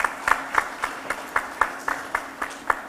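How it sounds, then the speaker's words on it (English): Sparse, evenly spaced claps from a small audience at an international museum expo, roughly ten steady beats in a row, moderately loud and fairly close. "please have a huge round of applause for all the kids who are here"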